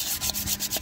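Sandpaper rubbed by hand over the painted surface of a Pajero 4M40 spare tire cover before repainting it matte black, a steady close scratchy rasp in short repeated strokes with no talking.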